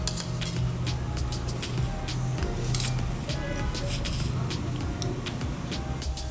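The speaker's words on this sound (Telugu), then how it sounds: "ఆ తర్వాత వీటిని చిన్న చిన్న ముక్కలుగా ఈ విధంగా కట్ చేసేసుకుందాం" A knife chopping boiled egg whites into small pieces on a cutting board, producing rapid, repeated light taps in a steady rhythm close by, over a faint background hum.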